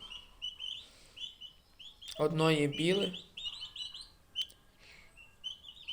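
Young turkey poults peep in a series of high, thin chirps close by, a steady scatter of calls that carries on around a short burst of a woman's speech.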